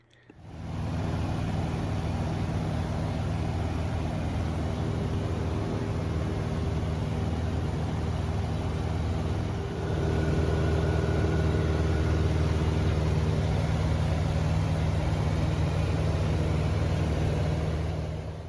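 Piper J3 Cub light airplane engine droning steadily in cruise flight, a constant, loud, even hum with wind noise and no voices, holding level throughout.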